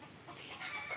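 A chicken about to be slaughtered clucks briefly and close, a short, agitated burst that rises in intensity over about a second.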